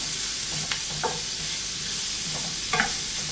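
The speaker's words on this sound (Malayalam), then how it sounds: "അപ്പോൾ നമുക്കിതൊന്ന് വഴറ്റിയെടുത്തുകൊണ്ട് വരാം. ഉള്ളിയും ക്യാരറ്റും ഒക്കെ വാടി വരുന്നുണ്ട്." Onions and carrots being stirred and sautéed in a pan for bread uppumavu, with soft sizzling under a few scraping spoon strokes, close and fairly quiet, no talking.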